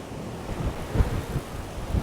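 Storm wind gusts in steady, rushing bursts outdoors, with low rumbling buffeting across the microphone and no voices.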